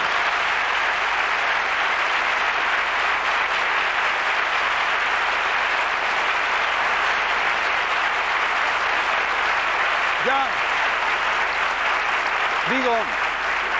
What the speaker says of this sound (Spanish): por el aplauso de todos nosotros también